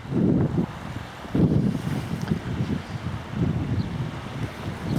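Wind buffets a camera microphone outdoors on the Tay shore near Tayport and Newport, a loud, low, rumbling roar that swells in uneven gusts throughout.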